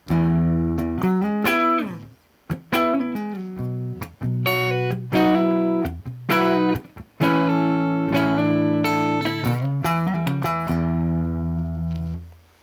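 A PRS Custom 24 35th Anniversary electric guitar on its humbucker pickup plays riffs with thick, warm sustained chords and single notes, loud and close, with brief pauses between phrases and a fading final chord.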